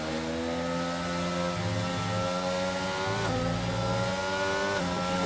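A McLaren race car in a sim racing game screams along with its rear-wing DRS slot open, a loud, steady high-revving engine note that climbs through the gears with short shifts and sustained acceleration.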